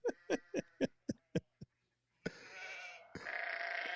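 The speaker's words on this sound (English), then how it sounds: "What did the sheep say?" Sheep bleating in a rapid run of short, loud calls near the listener, followed after a pause by a longer rough, noisy bleat that sounds almost gargled.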